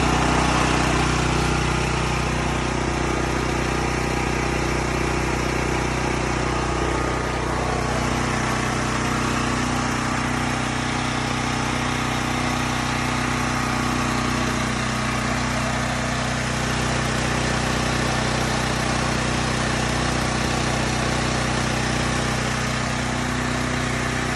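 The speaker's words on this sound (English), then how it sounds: "I'm sorry about the generator being so loud, but just wanted to tell y'all that it does work." DuroMax XP 1200EH tri-fuel generator running on gasoline, a loud, steady engine drone with constant mechanical rumble and hiss that holds unchanged throughout, with no voices.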